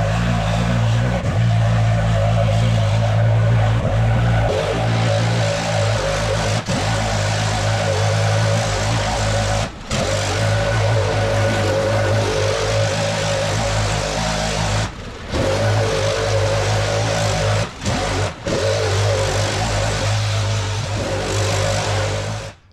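A leaf blower roars loud and steady at close range while clearing an overgrown grass driveway to uncover concrete drive tracks, its whine rising and dipping briefly as it is moved, with no talking.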